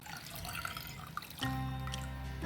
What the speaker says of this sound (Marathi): आता मी थोडंसं गरम पाणी घालून घेणार आहे